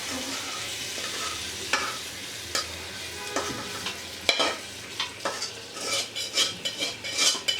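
Meat fries in a pan over a village cooking fire, with a steady sizzle under repeated scraping stirs and clinks of a utensil that grow quicker and denser toward the end.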